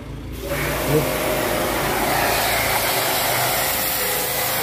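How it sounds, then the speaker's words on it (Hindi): A car pressure washer sprays a wheel cap to strip off oil and grime, a steady loud hiss with a motor hum that starts after a brief quiet moment and runs on without a break. "त्याला प्रेशरने स्वच्छ करून घेऊ आपण, जेणेकरून त्याच्यावर काही ऑइल वगैरे असेल ते सर्व निघून जाईल."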